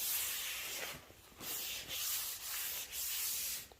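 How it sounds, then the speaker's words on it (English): Cloth wiping dust off a freshly sanded wooden staircase, close repeated rubbing strokes with a dry swishing texture and short breaks between passes. "So I am going to wipe off the dust."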